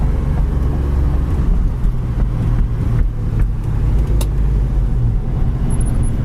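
A 1972 Ford Mustang Mach 1 drives along the road, its engine a low steady rumble beneath road and wind noise, heard from inside.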